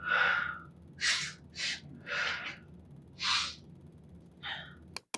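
Close, panicked breathing with several sharp, airy gasps and hard exhales in an uneven rhythm, followed by a brief click at the end.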